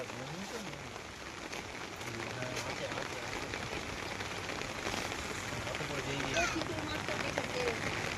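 Rain falls steadily over flooded village fields where people are fishing, a soft continuous patter at moderate distance with faint voices underneath.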